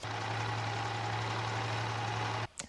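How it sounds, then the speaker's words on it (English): An overlock sewing machine running steadily while finishing the hem of a linen dress, a continuous buzzing motor hum that cuts off abruptly near the end, followed by a couple of faint clicks. "I'm just overlocking the bottom part"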